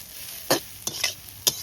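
Jute greens frying with onion and green chilli are stirred in a pan, giving four quick scraping strokes over a soft, steady sizzle.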